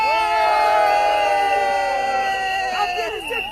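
Marchers at a London protest against Paul Biya cheer and shout loudly together, sustained whoops and voices rising over one another close by.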